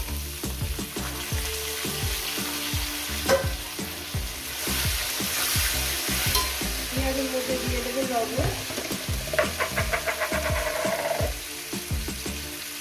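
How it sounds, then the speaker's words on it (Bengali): Whole garam masala, cumin and bay leaves frying in hot oil for mutton curry, then onions added; a steady loud sizzle with rhythmic spatula stirs and clatter, close up and continuous. "কয়েক সেকেন্ড ভেজে নেব এরপর দিয়ে দেবো পেঁয়াজগুলো"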